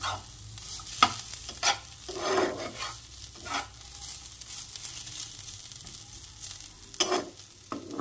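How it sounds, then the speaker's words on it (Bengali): Potatoes fry in a kadai with ground black pepper and salt, a steady crackling sizzle broken by repeated scraping stirs of a spatula against the pan. "গোলমরিচ গুঁড়ো আর একটু লবণ দিয়ে এটাকে সুন্দর করে ভেজে নিচ্ছি"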